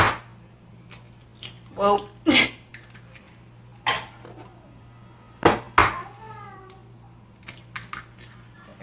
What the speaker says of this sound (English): bear with me while I break some eggs here